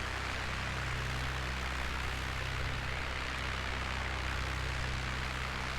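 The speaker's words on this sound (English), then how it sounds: "the sound of the engine sounds very different from what we're used to" A Piper Cub's engine drones steadily in flight in a flight simulator game, a constant dense propeller hum with a low throb that stays loud and unbroken throughout.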